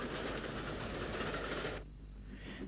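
A jeep locomotive hauls a failed railcar set along an Irish line, giving a steady rumbling rail noise with broadband clatter that drops away sharply near the end, leaving a quieter low hum.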